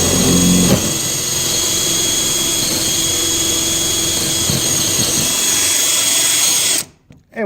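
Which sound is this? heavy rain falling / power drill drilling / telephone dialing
power drill drilling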